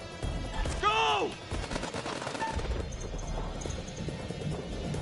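Bursts of gunfire crackle through a firefight in House of Ashes, repeated shots of moderate loudness running throughout under shouted voices.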